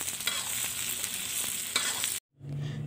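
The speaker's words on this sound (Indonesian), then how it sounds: "Kemudian saya masukkan bagian bonggol pakcoynya yang berwarna putih ini. Kemudian saya aduk-aduk dulu agar sedikit layu." Steady sizzling and scraping of white bok choy stems being stir-fried in a hot pan, with a brief silent gap near the end before the sizzle resumes.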